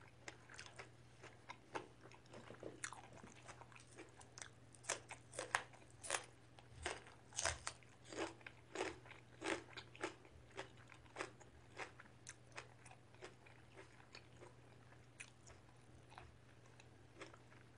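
Raw food is chewed close to the ear, a steady run of wet crunchy bites and smacks over a faint constant hum, with no talking.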